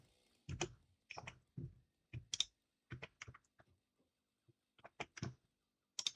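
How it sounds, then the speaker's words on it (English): Computer keyboard typing while playing Satisfactory, heard as bursts of close, crisp key clicks in quick clusters separated by short pauses, loud against a quiet background. "annoyed by the sound of the keyboard"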